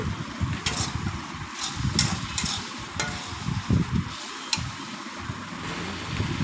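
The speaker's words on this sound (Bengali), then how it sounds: "ভালো করে আমি মশলাটায় কষিয়ে নেবো" Chana masala spices stir-fried in a pan for ghugni, a steady low sizzling bed with repeated scraping strokes of a spatula and occasional light clinks, close and fairly loud with no talking.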